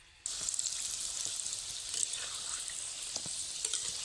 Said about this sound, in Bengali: বেশ কিছুক্ষণ তেলে ফোটার পর কিন্তু হালকা হালকা কালার চলে এসছে সিঙ্গাড়াটার দেখুন